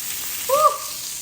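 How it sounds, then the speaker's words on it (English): Food sizzles in a hot pan with a steady bright hiss, and a short high-pitched squeak rises briefly in the middle. "Sizzling pan."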